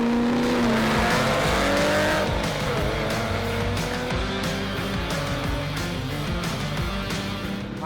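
A Porsche 928 racing at a drag strip, its engine roaring loud and continuous as it accelerates, with a rising whine and rough mechanical texture throughout and no talk.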